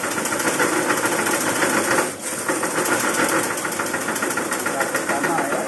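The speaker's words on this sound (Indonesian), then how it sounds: "cara pembersihan biji sawit dengan menggunakan mesin buatan Pak D Nano" A homemade machine for cleaning oil palm material runs loudly and continuously, a buzzing motor drone with a brief dip partway through.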